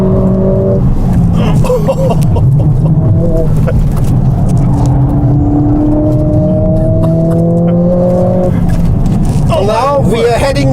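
A Mercedes-AMG car drives hard on the Nürburgring in automatic mode, its engine rising in pitch through several gears with quick shifts, loud and close inside the cabin.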